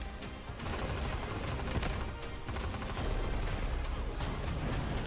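Sustained rapid gunfire from a multiplayer shooter game, dense overlapping bursts and volleys rattling continuously and loudly throughout with no pauses.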